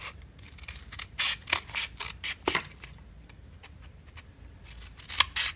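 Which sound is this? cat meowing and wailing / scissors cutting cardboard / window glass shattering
scissors cutting cardboard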